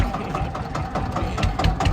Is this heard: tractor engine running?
yes